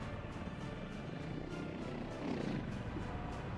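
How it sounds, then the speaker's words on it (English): Tourist helicopter in a city-building game passing overhead, a steady rotor whir that swells slightly toward the end of a few seconds of continuous, moderately loud sound with no talking. "As the tourist chopper flies by."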